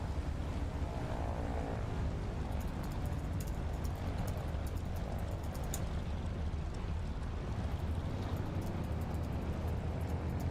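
A Wilga aircraft taxis in Microsoft Flight Simulator during a swamp STOL competition, its engine holding a steady low droning hum with faint clicks above it and no talk.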